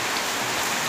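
Heavy rain pours down in a steady, dense, loud hiss that fills the whole moment without a break, with no voices.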